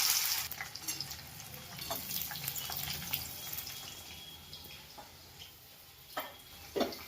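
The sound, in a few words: onions frying and sizzling in oil with spices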